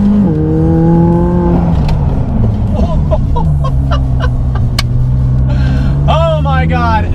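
A McLaren 600LT sheds speed under hard braking, its loud, close engine note sliding downward through several drops with a few crackles, and a voice briefly speaks near the end.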